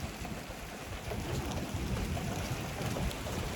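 Steady, heavy rain pouring down during a June thunderstorm in Colorado, a dense, noisy wash that swells slightly after the first second, with no voices.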